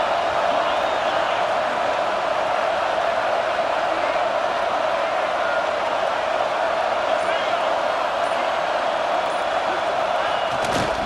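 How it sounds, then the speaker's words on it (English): A packed home stadium crowd roars continuously in a College Football 26 football game, a steady loud wall of cheering from start to finish, with a sharper burst near the end. "how nice is it to have the home crowd going absolutely bananas?"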